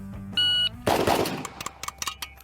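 A short tone sounds, then a loud, close gunshot burst from a gun firing ammunition picked up off the ground, followed by a scatter of small metallic clinks and impacts.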